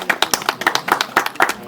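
A crowd at a door-to-door political campaign gathering in Tripura claps in quick, uneven bursts, close and fairly loud, with a faint voice mixed in.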